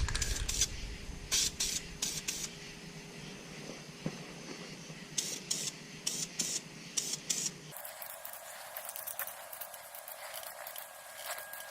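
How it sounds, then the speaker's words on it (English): Spray paint hisses from an aerosol can in a series of short test bursts, each a sharp spurt, ahead of painting a car's brakes. The bursts are close and clear and end in a steady hiss. "I want to make sure my nozzle's clear. Do a couple test sprays."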